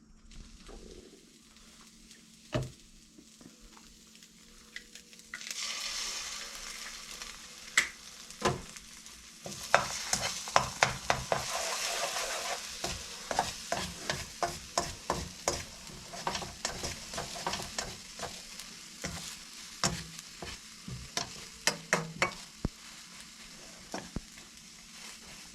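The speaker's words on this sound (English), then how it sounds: "a little leftover moose burger I cooked up. We're going to just warm it up." Leftover moose burger is warmed in a pan. After a quiet start the sizzle rises and continues steadily, with many sharp clicks and scrapes of stirring and turning, close and fairly loud, with no talking.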